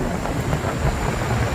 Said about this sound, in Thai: เสียงรถจับกำลังเร่งเครื่อง